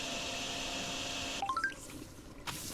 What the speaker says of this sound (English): Right, vacuum! Sucky, sucky water!